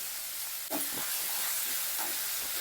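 Tomatoes sauté in a pan for an ivy gourd gravy, a continuous soft hiss and sizzle with a brief scraping stir partway through, steady and moderately quiet with no talk.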